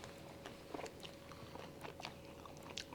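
Close, faint bites and chewing on a mandarin cream cake, a few soft crunchy bursts followed by quiet mastication over a low background hum.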